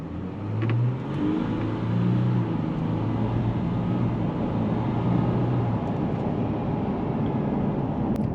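A 2024 VW Amarok PanAmericana pickup with a 3.0L 184kW V6 and 10-speed automatic accelerates hard, a steady low engine drone heard from inside the cab, rising and sustained throughout with road and wind noise underneath.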